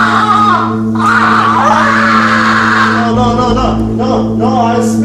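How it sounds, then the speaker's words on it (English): A person screams loudly in a long, strained cry that wavers in pitch, close and continuous, in a tense confrontation scene. "don't scream."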